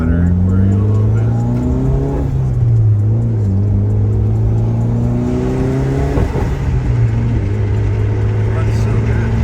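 A tuned car engine drones steadily at high revs against its rev limiter, the pitch wavering and dipping slightly in a loud, continuous roar that fills the whole stretch.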